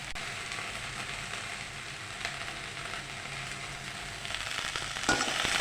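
Okra (bendakaya) frying in oil in a pan, a steady soft crackling sizzle with occasional louder spatters toward the end, heard close and alone.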